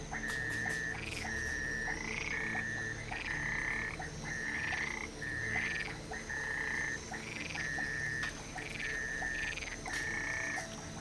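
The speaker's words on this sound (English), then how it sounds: "the frogs started up again" Frogs croak in a swamp at night in a steady chorus, repeating pulsed calls rising and falling in regular bursts about every second over a constant background drone, with no voices.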